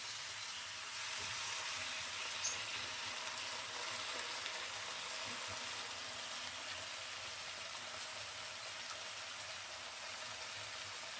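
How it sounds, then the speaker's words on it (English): Frozen vegetables and sauce simmering in a pan for General Tao chicken, giving a steady, soft sizzle and bubbling hiss that runs evenly throughout without pauses. "and then we'll add the sauce, and this will just cook down"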